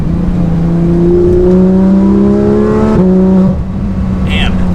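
A Porsche 911 GT3 RS engine drones loudly from inside the car, holding a steady high-revving tone that climbs slightly before easing off as the revs drop near the end.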